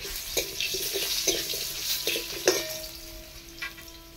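Cut, washed potatoes fry in hot oil with a busy crackling sizzle, punctuated by a few sharp scrapes and clinks of a utensil against the pan, close and fairly loud.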